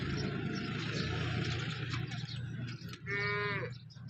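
A single cow moos briefly near the end, following a few seconds of low rumbling background noise.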